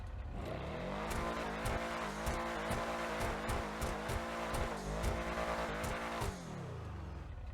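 The HVY Nightshark armored car from GTA Online revs hard, its engine rising and falling in steady repeated bursts with a loud, continuous roar that holds close throughout.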